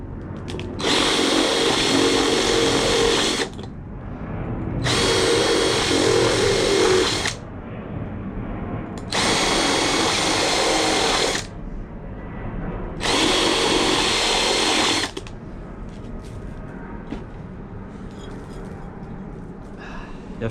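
A power drill bores a potentiometer hole in an aluminium guitar pedal enclosure in four loud, high-pitched bursts of a few seconds each, separated by pauses and a low background hum.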